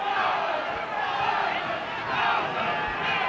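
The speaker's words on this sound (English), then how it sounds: "These supporters are magnificent, and just listen to them cheering." Rugby league supporters roar and cheer as a sustained, dense crowd wash filling a stand during a late-1980s match against Salford, steady and loud throughout with no single voice standing out.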